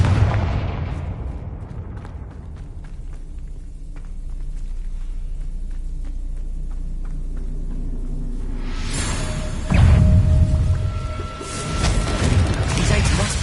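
Confringo fire spell explosions in the game Hogwarts Legacy: a deep rumbling blast fades into a low drone, then a second loud burst and crackling rumble hit near the end, with a voice talking over it.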